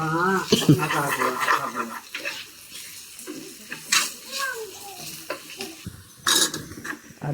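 A spoon stirs ginger-garlic paste into a sizzling pan for vegetable pulao, with scraping clinks of metal against the pan over a steady fry, while a person talks throughout.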